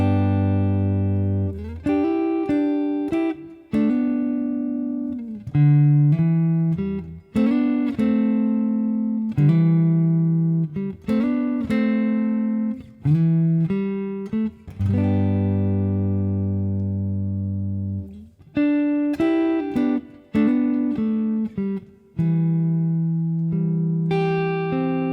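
An electric guitar plays the intro rhythm of a song, clean sustained chords struck in a slow, spaced pattern, each ringing out and decaying before the next, up close with no talk.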